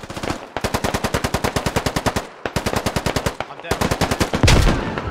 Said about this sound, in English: puts two bullets into Javi.